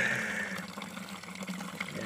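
Water runs from a garden hose into a 16-liter bucket, a steady close splashing flow throughout with no talking.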